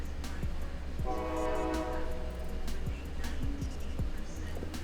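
A passing train sounds a sustained, multi-tone horn blast of about a second over a steady rumble of rail noise, with other low knocks and background sounds around it.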